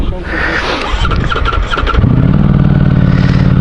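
A Ducati Streetfighter V4S or Triumph Speed Triple 1200 RS motorcycle engine cranks with chattering starter noise, then fires into a steady low idle, with a voice heard early on.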